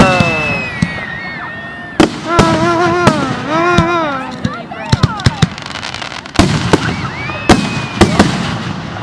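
Fireworks going off in a loud display, including whistling rockets that rise with sliding tones and a series of sharp bangs and crackles, while people talk and react throughout.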